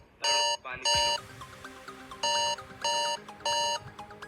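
A phone alarm from a voice reminder app rings in repeated bright bursts of electronic tones, about five pulses with short gaps between them, close and loud over faint background noise.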